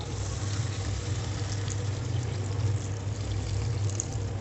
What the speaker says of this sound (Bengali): এবারে আমি জল ব্যবহার করব পরিমাণ মতো।